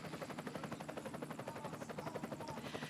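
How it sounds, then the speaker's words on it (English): A camera helicopter hovers above a para-cycling road race, its rotor throbbing in a steady rapid pulse throughout, fairly faint and distant, with no talking. "The helicopter is indeed with us this afternoon"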